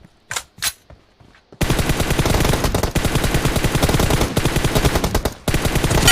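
Loud sustained automatic gunfire from a video game team deathmatch, firing in a rapid steady stream after a few sharp single shots, with a brief break near the end, close up and without voices.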